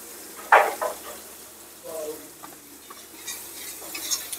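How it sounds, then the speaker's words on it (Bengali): Onion and chili paste frying in a pan, with a spoon scraping and stirring in short bursts over a faint, soft sizzle. "পেঁয়াজ বাটা আর লঙ্কা বাটা একসাথে খুব ভালো করে ভেজে নিলাম"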